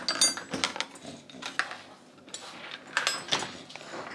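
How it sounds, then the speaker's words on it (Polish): Metal cutlery clinks and rattles in a few quick bursts as pieces are pulled out, close by, with brief pauses between. "Sztućce wyciągamy."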